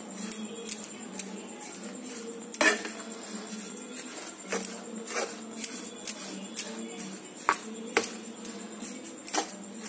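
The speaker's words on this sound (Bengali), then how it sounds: "চিনিটা দিয়ে দিয়েছি কড়াইয়ের মধ্যে এবার একসঙ্গে এটা মিশিয়ে নেবো" Sugar being stirred in a kadai (wok) gives off repeated close metallic clinks and scrapes in an irregular rhythm, with no one talking.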